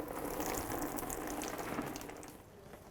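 Coolant drains from a disconnected oil cooler hose on a 2007-12 Nissan Altima into a bucket, a steady close trickling and splattering that runs continuously, then ends with a sudden clunk.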